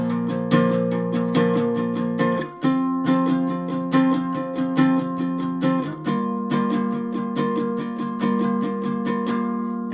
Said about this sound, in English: just strum that one out